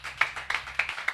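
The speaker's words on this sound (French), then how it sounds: "On acclame fortement l'Éternel au nom puissant de Jésus" A church congregation claps in worship: four sharp, fairly close bursts of handclaps at a steady beat over a low hum, with no voices.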